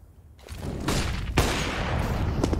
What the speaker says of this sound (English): that nade is going to really do some damage, and it just annihilates Kenny